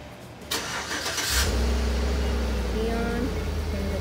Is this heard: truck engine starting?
yes